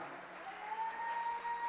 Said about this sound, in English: Give applause to my indigenous brothers and sisters, the youth, and Africa.